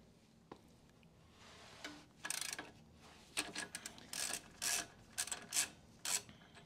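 A ratchet socket wrench works a pinch bolt on a Harley-Davidson Road King Special's Showa front fork axle, giving close, raspy clicking bursts in short repeated pulls with brief pauses between them.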